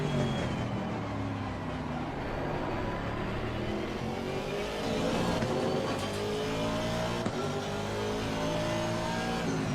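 Bentley and McLaren GT3 race cars run side by side at Snetterton in the Assetto Corsa Competizione racing game, their engines a continuous loud roar with rising and falling pitch as they accelerate and shift, with faint tyre noise underneath.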